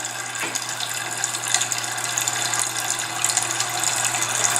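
A toilet tank fills with water, a steady loud rushing hiss and gurgle from the refill valve running continuously, close by and without speech.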